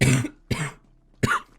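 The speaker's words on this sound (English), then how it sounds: "Man, I gotta get over this cough." Three harsh coughs from a man with a lingering chest cold and sore throat, spaced apart with short silent gaps between them, close and fairly loud.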